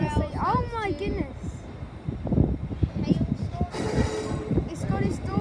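ScotRail train pulling out of Glasgow Central station, a rumbling, clattering departure with a brief metallic squeal and a broadband rush near the end, heard nearby under station echo and background chatter.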